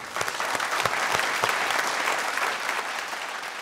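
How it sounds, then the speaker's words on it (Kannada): A studio audience claps loudly and steadily for a few seconds, a dense wash of applause without voices. "ಜೋರ್ ಚಪ್ಪಾಳೆ ಡಾಕ್ಟರ್."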